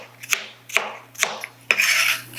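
A knife rough-chops de-seeded cucumbers on a cutting board, four sharp thuds spaced about half a second apart, the last followed by a brief scraping rasp, close and clear with no talking.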